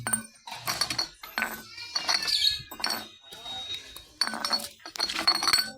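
Glass bottles clink and knock together in bursts as scrap bottles are gathered and counted on a street, close and sharp, with people talking throughout.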